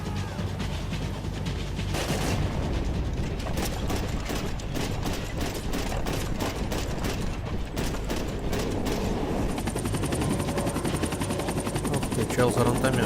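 A helicopter in the video game Max Payne 3 thrums steadily and loudly throughout, with rapid bursts of gunfire crackling over its rotor noise.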